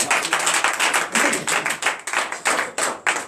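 A church congregation at a night deliverance and prophecy service claps in acclamation, a steady run of loud, fairly rhythmic handclaps with no one speaking over them.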